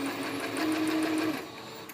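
A sewing machine runs a long basting stitch along fabric for covered cording, with a quiet, steady, rapid whirring and ticking close by.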